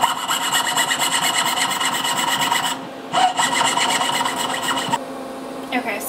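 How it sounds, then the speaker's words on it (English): A 14 karat gold ring is scribed with a cut line by a metal tool, making a close, steady scratching rasp with two short pauses. "So I'm just going to scribe a little line where I want to cut off my metal."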